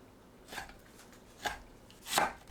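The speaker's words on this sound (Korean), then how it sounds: "베이컨을 1cm 너비로 썰어주세요." A knife cuts bacon into 1 cm wide strips on a board: three distinct, close chops spaced about a second apart over a quiet background.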